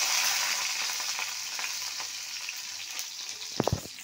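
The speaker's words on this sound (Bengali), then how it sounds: "লঙ্কাটা ভাজা হবে বেশ ভালো" Green chillies frying in hot oil with cumin in a karahi, giving a steady close sizzle throughout, with a few sharp clicks of a spatula near the end.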